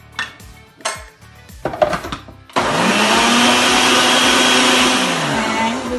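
A blender grinds soaked, drained moong dal into batter for dahi pakoda, starting after a few seconds of clattering dishes and then running as a loud, steady whir that holds to the end.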